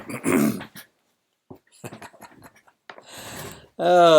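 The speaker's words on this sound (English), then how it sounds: "they're probably barking at a squirrel." Dogs bark and whine in short bursts at the start and end, with a person talking quietly in between.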